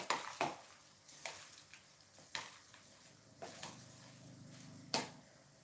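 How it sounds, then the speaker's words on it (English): A spoon stirs popcorn kernels in a pot, giving sharp scattered clinks and scrapes at an irregular pace, fairly close, over a low steady sizzle of heating kernels. "I meant to get out a spoon so I can stir that up"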